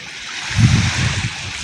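Shallow river water flowing and splashing close by on a clear day, a steady rushing hiss with a low burbling swell in the middle.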